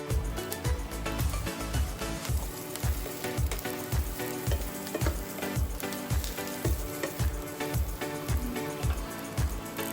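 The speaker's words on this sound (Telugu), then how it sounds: "ఇక ఇందులో వెల్లుల్లి రెబ్బలు వేసి వీటిని కూడా కొంచెం వేయించుదాం." Garlic cloves frying in a pan while making coconut chutney, a steady loud sizzle with repeated rhythmic low thumps of stirring running throughout, with no talking.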